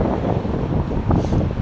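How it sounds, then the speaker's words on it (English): Strong wind buffets an outdoor microphone as a rider on a Gotway Tesla electric unicycle stops to talk in the city, a steady loud rumble that persists for the whole stretch. "oh my gosh, it's windy."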